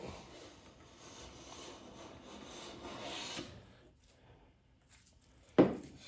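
A Lie-Nielsen No. 4 bench plane takes whisper-thin shavings from wood, making a long, soft, breathy rasp for about three seconds. Quieter scraping follows, then a sharp knock near the end.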